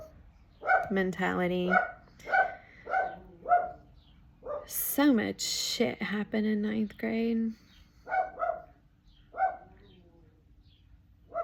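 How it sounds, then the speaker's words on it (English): A household dog barks in bursts in the background, fairly close, mixed under a person talking steadily throughout. "And my dog's barking."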